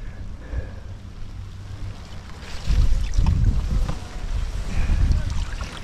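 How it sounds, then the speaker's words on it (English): Rain and wind sweep over the sea as rowing boats gather in dirty water, with a gusty roar buffeting the microphone that swells noticeably halfway through, close and loud. "we're getting the rain and the wind"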